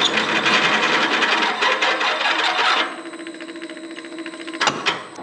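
A loud drill press whirs and grinds through material for a few seconds, then spins down to a steady motor hum before a brief clatter.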